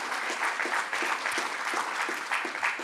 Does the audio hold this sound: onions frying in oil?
no